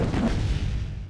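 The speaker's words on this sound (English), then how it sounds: "He's bombing." Dense rumbling blasts of bombing in a competitive video game match, a continuous loud barrage of low booming explosions with no pauses.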